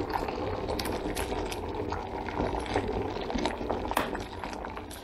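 Water bubbles steadily inside a heating appliance, a continuous close gurgle with occasional faint clinks.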